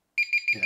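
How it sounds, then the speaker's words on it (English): A sound level meter alarm beeps four times in quick, evenly spaced electronic pulses, close and clear, with a person's short spoken word overlapping the last beeps. "So that's the alarm."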